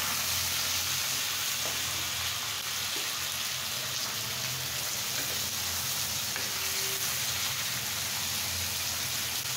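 Thick-cut new potatoes frying in a pan with garlic and spices, making a dense, even, rain-like sizzle that holds steady and fairly loud throughout with faint stirring knocks.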